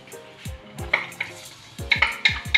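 Chopped onion going into a hot pan for a rice dish with cuttlefish and prawns, with a faint sizzle under repeated sharp clinks and scrapes of a utensil against the pan, close and fairly loud.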